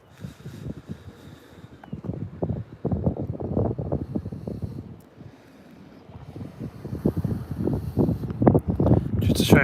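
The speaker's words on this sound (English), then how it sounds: "shame that wind's so cold" Cold wind blowing across a beach near Lowestoft, a steady rushing buffet on the microphone that swells and eases, with someone talking over it.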